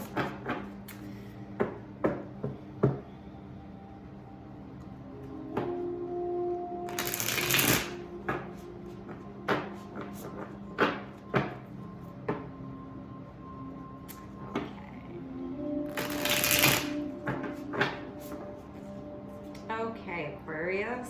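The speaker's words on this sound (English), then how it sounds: "we'll just give them a few more shuffles" A deck of tarot cards being shuffled in quick riffles and rustling bursts, with soft taps and pauses between shuffles and a voice talking at times.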